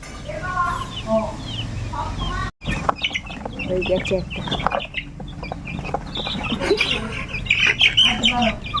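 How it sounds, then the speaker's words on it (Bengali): Several backyard chickens squawk and cluck loudly while being chased and caught, with flurries of sharp cries, a brief silent gap, and people talking over the commotion. "মুরগিগুলো পালিয়েছে দাদু ধরছে"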